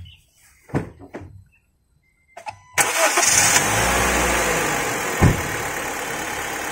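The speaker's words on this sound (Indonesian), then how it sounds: "Sekarang kita tes untuk mesin ya." A used Honda Brio hatchback engine cranks and catches with a sudden roar after a few quiet clicks and knocks, then settles into a steady, loud idle heard up close during a second-hand car inspection in Banjarmasin.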